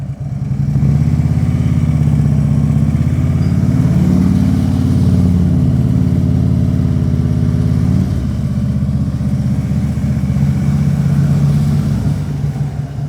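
A motorcycle sets off from a standstill and rides on with a steady, close mid-pitched engine drone, briefly rising in pitch, then a shift in tone partway through before it settles back.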